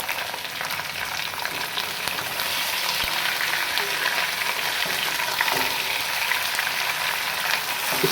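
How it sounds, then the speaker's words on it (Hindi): Chicken sizzles steadily in a pan with browned onions during bhuna-style frying, a dense continuous crackle and hiss that holds level throughout with occasional stirring scrapes. "इसमें अभी चिकन डालेंगे, इसको 5 से 7 मिनट के लिए इसको भून लेंगे अच्छी तरह से"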